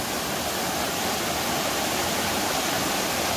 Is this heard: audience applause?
no